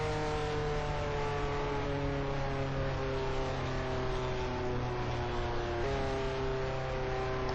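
A race car in the video game Speed Dreams rolls on a victory lap, its engine droning continuously and loudly with a steady, slowly shifting tone and no talk.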